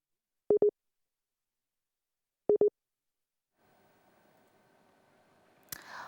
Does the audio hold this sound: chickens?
no